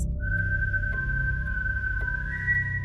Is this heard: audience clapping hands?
no